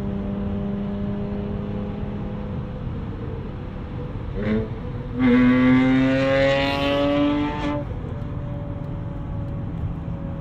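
A 2001 BMW E39 M5 cruising on the highway, a low steady engine drone and road noise with a brief rise in revs partway through, heard from inside the car.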